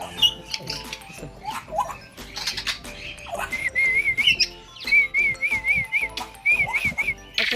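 Repeated warbling whistles from a person calling an animal, short trilled phrases recurring in a rhythmic series, loud and close over rustling background noise and some distant voices.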